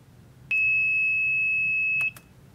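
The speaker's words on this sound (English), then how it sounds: "So the buzzer goes off and the LED is on when the tea is at the proper temperature" A Logger Pro digital control unit on a tea maker sounds its buzzer, one steady high-pitched electronic tone lasting about a second and a half and then stopping abruptly, with a faint click at each end.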